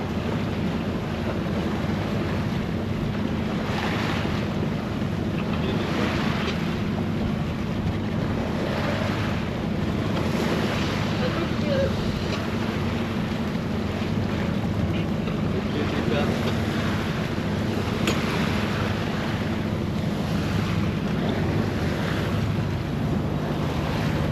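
A boat moves steadily across the water under motor at about 5 knots, with a constant low engine drone, wind buffeting the microphone and waves washing past.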